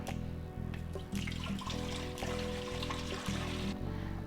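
Cold water runs steadily from a kitchen tap for cold brew tea, a continuous close rushing stream with a faint rhythmic pulsing, no talking.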